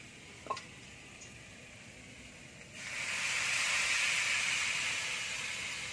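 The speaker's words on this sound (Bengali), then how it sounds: "ভাজা হয়ে গেছে, দিয়ে দেবো জল।" Water is poured onto hot fried vegetables: after a quiet simmer and a small clink, a sudden loud hissing sizzle bursts up and holds steady, slowly easing off.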